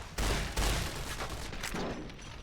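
Shotgun fire in Fallout: New Vegas, two loud close blasts in quick succession followed by a rattling tail of further shots and echoing noise.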